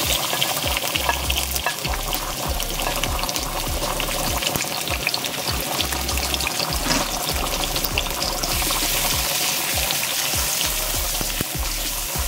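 Garlic and pimento fry in hot oil with a loud, continuous sizzle and crackle, broken by short bursts of stirring and scraping in the pan.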